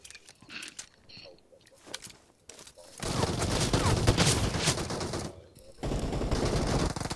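Sustained automatic gunfire in PUBG Mobile, a loud, dense barrage that cuts in after a quieter stretch, pauses briefly, then resumes hard.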